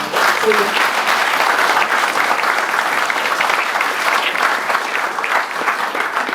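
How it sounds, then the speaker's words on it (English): Village audience at a talk applauding a filmmaker, steady dense clapping from a modest indoor crowd, fairly loud and even throughout with a few voices underneath. "I think we give a round of applause for John."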